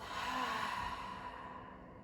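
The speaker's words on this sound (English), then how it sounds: "Take a big inhale here. Exhale, open mouth." One big open-mouth exhale during a yoga class, a soft, breathy, sigh-like rush of air that fades out steadily over about two seconds, close and alone.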